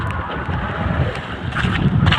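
Strong wind at sea roars across a fishing boat, a loud continuous rushing blast buffeting the microphone with waves surging beneath, no voices heard.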